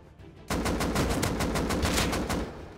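Gunfire in the survival game Rust: after a brief quiet lead-in, a sustained, loud burst of rapid automatic shots rattles on in an even rhythm until the end, with no talking.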